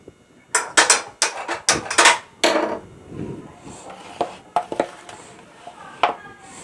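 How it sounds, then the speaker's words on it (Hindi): Spiced potatoes are mixed with flour in a bowl for a fasting snack. Irregular knocks and clacks of a spoon against the bowl come in bursts, loud at first and sparser later, with a brief voice in between. "बस इसको मैं ऐसे हिलाते हुए जब तक हम अपने आलू मिक्स कर रहे हैं"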